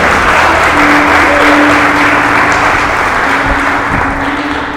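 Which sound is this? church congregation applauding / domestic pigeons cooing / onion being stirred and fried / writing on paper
church congregation applauding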